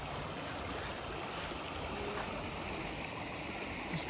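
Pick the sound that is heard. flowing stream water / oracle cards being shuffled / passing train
flowing stream water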